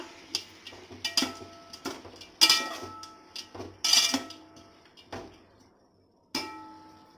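A metal spoon stirs onions and salt in a cooking pot on medium heat, making a series of scraping clinks and knocks at an uneven pace, close up, with several short pauses.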